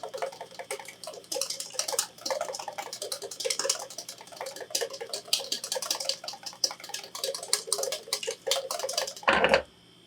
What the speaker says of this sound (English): Only a couple drops at a time, and then continue to whisk it.